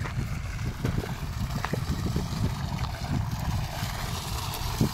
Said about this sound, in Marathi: एक दुसरी मोटर चालू आहे इकडे